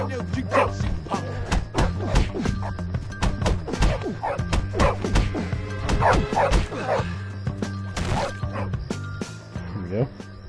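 A dog in the video game Bully barks and yips in repeated bursts throughout, mixed with near, continuous speech from characters.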